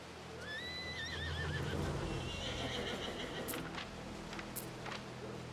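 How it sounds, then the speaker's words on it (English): Horses in the Anno 117 city-building game give a clear whinny near the start, followed by soft hoof clops and busy settlement ambience, with no talking. "Horses."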